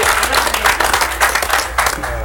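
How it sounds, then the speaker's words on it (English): An audience claps for a poker player being introduced at a tournament table, a brief burst of hand clapping, fairly close and steady, with a voice faintly mixed in. "let's give him a round of applause there."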